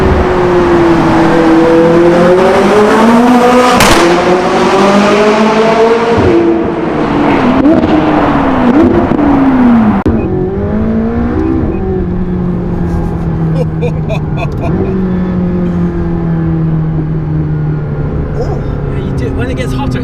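A stock McLaren 675LT exhaust, loud and close, revving in rising and falling sweeps while driving, then settling into a lower burbling drone with occasional crackles.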